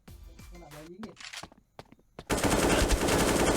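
A rapid, loud, sustained burst of automatic gunfire in the shooter game Bullet Angel, coming after scattered single shots and excited talk.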